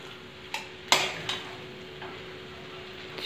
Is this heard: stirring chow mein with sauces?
yes